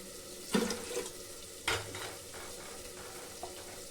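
Halwa cooking in a pan on a home stove, with a few distinct scraping stirs and clinks of a spoon against the pan over a soft sizzle.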